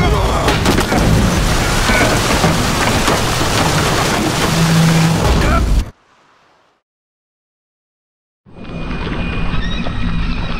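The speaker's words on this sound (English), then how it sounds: "Didn't bargain for no storm." Heavy storm in The Witcher 3 (Hearts of Stone) at sea aboard a boat: dense, loud rain and wind roar for about six seconds, then sudden near-silence, before a softer stormy wash returns.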